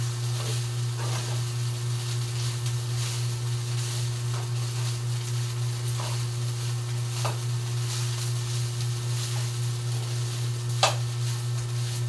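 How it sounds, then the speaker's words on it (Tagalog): Rice sizzles steadily while frying in a pan, a constant hiss under a low hum, with occasional scraping strokes of a spatula stirring the grains and no talking. "Halo-haloin lang po para po hindi po masunog yung kanin."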